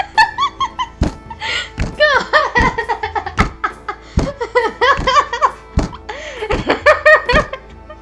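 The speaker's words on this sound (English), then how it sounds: "That's the sound of my head on my own table." A head thumps down onto a wooden table again and again, about a dozen dull, heavy knocks, while people talk and laugh loudly over them.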